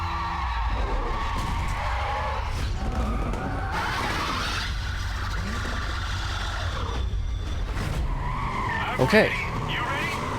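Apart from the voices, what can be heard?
muscle car launching with nitrous in video game Need for Speed Carbon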